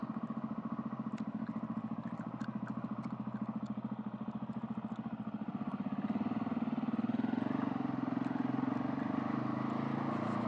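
Husqvarna motorcycle riding on a rough, roadless off-road track in Akamas national park on street tires, a steady close engine drone with clattering that swells a little louder partway through, no talking.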